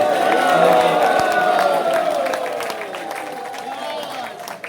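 An audience at ISKCON Mayapur welcomes a visiting guest with dense, steady clapping and sustained cheering voices, loud and close, tapering slightly toward the end.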